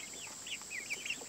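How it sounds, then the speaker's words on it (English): Chickens cluck softly in a muddy homestead chicken run, with several short, rising and falling calls close by and quiet farmyard background. "I can't wait for this rooster to get bigger"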